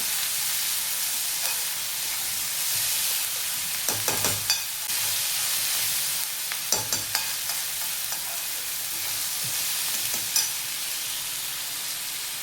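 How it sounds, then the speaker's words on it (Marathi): Onions fry in hot oil until golden for a tomato-onion chutney, a continuous sizzle broken by a few sharp clinks and scrapes of stirring, with no talking. "गोल्डन कलर येईपर्यंत कांदा चांगला तेलात भाजायचा आहे."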